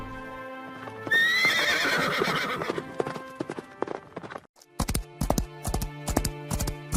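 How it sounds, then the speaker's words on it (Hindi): A horse whinnies loudly, then its hooves clip-clop in a quick, sharp galloping rhythm heading into dense forest, close and distinct against otherwise quiet surroundings. "राजकुमारी अपने घोड़े पर बैठ तेजी से घने जंगल की ओर निकल जाती है"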